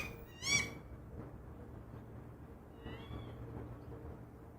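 A female goshawk gives a sharp, loud scolding call, then quieter harsh cries follow faintly over a low background hum, with no talk.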